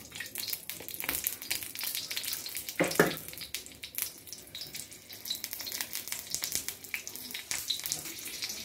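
Oil sizzles in a pan with green chilies, a faint crackling hiss punctuated by sharper pops and spatters, heard close and quiet without talk.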